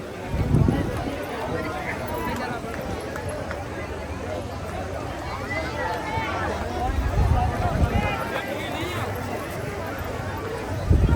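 Crowd of visitors at a hot, busy temple in Mathura near Govardhan, a dense continuous babble of many voices with scattered footsteps and shuffling, steady and close around.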